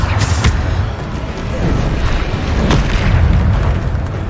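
Heavy Bombarda blasts from Hogwarts Legacy spellcasting erupt in a dense, rumbling barrage, deep booms layered with crackling bursts that keep the combat loud and continuous throughout.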